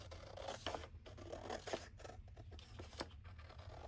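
Small, tiny craft scissors cutting along the side of patterned scrapbook paper, a quick series of close, crisp snipping and scraping strokes in an otherwise quiet room.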